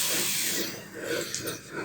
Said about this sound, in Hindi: ये लहसुन अच्छे तरीके से भून चुका है